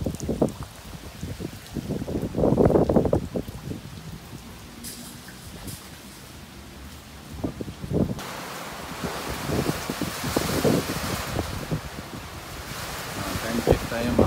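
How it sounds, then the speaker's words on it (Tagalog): Strong wind roars during a flood storm, with rain and rustling debris; the gusts swell and fade, loud at first, quieter midway, then building again toward the end. "Pero napakalakas pa rin ng hangin."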